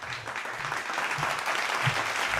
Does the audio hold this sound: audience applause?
yes